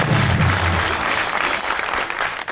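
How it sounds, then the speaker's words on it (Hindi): Studio audience applause fills a Pakistani TV talk show, a thick, continuous roar of clapping that opens over a low musical sting, then carries on alone before tapering slightly at the end. "इसकी तालियां"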